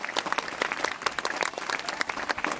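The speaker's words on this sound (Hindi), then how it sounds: "मैं चाहूंगी कि जोरदार तालियों से उनका सम्मान किया जाए।" Applause honors dancing girls at a school event, steady clapping from an indoor audience lasting the whole stretch, moderately loud with no voices heard.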